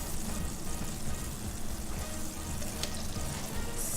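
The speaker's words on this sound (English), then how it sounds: "I love the way it sizzles in a nice hot pan" Margarine sizzles steadily in a hot pan, a continuous crackling hiss at moderate volume with no voices.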